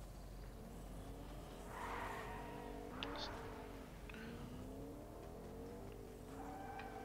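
A car drives through a video game match, its engine droning steadily at moderate loudness with a few swells as it revs, heard alongside background game sounds and occasional talk.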